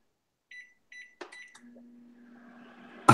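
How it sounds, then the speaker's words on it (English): A home microwave oven gives a few short beeps, then settles into a steady low hum as it runs, ending with a sudden loud clunk; close and fairly quiet with no talk. "Sorry if y'all hear my microwave."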